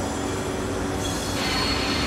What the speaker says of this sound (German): Da kommt sowieso gerade ein anderer Zug noch